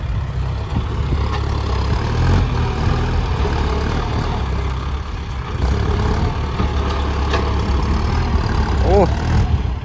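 A Kubota L5018SP tractor fitted with a loud exhaust pipe pushes a pile of soil. Its engine drones steadily and heavily for the whole stretch, loud and close, with no talk over it.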